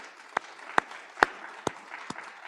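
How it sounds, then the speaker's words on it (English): An audience at a legal panel on antisemitism hosted by the New York City Bar applauds, with five sharp, evenly spaced claps standing out over a faint background of scattered clapping. "a round of applause, please, for this incredible panel"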